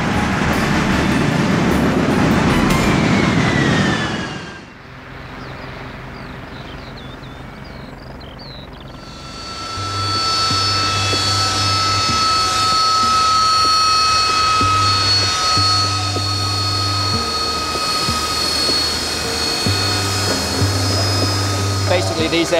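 A Sea Harrier FA2 jet fighter of the Fleet Air Arm roars loudly, drops away briefly, then returns as a steady high-pitched turbine whine with a low engine drone, while someone narrates over it.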